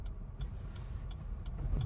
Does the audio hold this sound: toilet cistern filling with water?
no